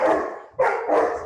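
A dog barks three times in quick succession, close and fairly loud, with short gaps between the sharp barks.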